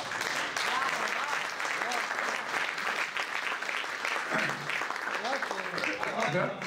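Audience applause at an Urdu mushaira poetry gathering in Aligarh, a steady dense clapping that fills the hall for several seconds, with a few voices calling out from the crowd beneath it.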